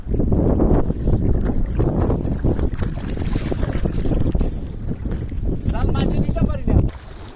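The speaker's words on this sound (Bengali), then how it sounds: "বাতাস, পানির প্রচুর স্রোত, স্রোত না তো ঢেউ।" Strong wind buffets the microphone beside a fishing boat on rough water at Al Baha, Saudi Arabia, with a loud, constant roar and low rumble of churning waves throughout.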